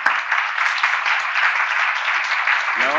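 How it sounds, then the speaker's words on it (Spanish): Seminar audience applauding for a participant named Daniel, a steady dense wash of clapping from many hands that holds evenly throughout and cuts off near the end. "Le damos un aplauso a Daniel."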